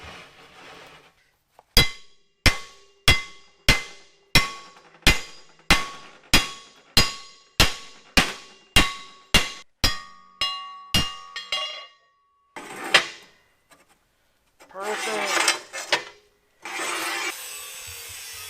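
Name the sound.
hammering heated quarter-inch steel plate to bend it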